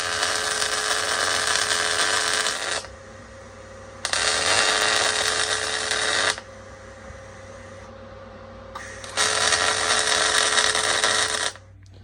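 An electric welder joins an OTA trackbar for a Dana 44 axle swap, making three steady buzzing bursts of several seconds each, separated by quieter pauses with a low hum underneath.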